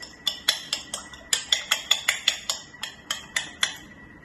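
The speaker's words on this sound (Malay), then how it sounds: "So telur ni kita pukul." Rapid metallic clinks of a utensil beating an egg in a bowl, about twenty quick taps in a steady whisking rhythm, close and fairly loud with no talking.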